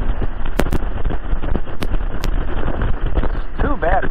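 Wind buffets the microphone with low rumbling gusts and sharp pops during a Honda Gold Wing motorcycle ride while voices talk nearby.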